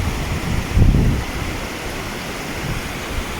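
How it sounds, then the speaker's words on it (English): Waterfalls near glaciers at Wedgemount Lake give a steady broadband rush of falling water, heard from a distance and mixed with wind buffeting the microphone; no one speaks. "there's some waterfalls coming through the top right there."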